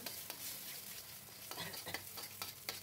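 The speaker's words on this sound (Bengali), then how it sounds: "খুব সুন্দর করে কিন্তু ভেজে নিতে হবে ডিমটা তেলের মধ্যে" Two eggs scramble in hot oil with a steady, close sizzle, broken by sharp scraping clicks from a spatula stirring the pan every second or so, with no voices.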